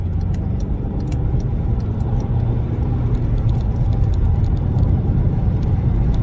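A remapped Suzuki Swift pulls hard in third gear on a clear road, its engine giving a steady, loud, close rumble and whir that holds without a break for the whole stretch.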